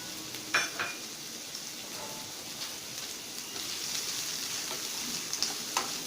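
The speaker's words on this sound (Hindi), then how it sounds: "इसमें कटा हुआ ओनियन डाल दीजिए।" Chopped onion sizzles steadily in hot oil in a pan while a fried matar nutrela dish is being cooked, with a few light stirring clinks over the constant crackle.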